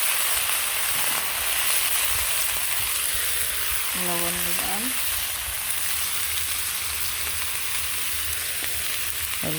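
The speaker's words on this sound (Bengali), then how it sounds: "এই তেলের মধ্যেই কুমড়াগুলো দিয়ে দিলাম" Pumpkin pieces fry in hot oil with a steady, broad sizzle running the whole time, near and fairly loud, broken by a few short tonal clinks or scrapes partway through.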